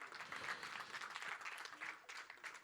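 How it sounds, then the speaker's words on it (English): An audience applauds at a Hindi film trailer launch event for the movie Jersey, a dense, steady round of clapping from a large crowd that holds throughout, close and fairly loud, with no talk over it. "big round of applause from Mrunal and Shahid Kapoor"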